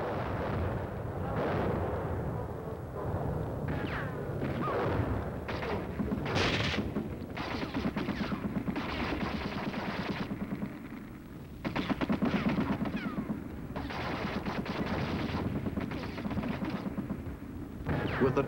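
Sustained artillery barrage in a wartime combat drive, with heavy guns firing in dense, overlapping booms and blasts that roll on continuously, loud and close, with no voices over them.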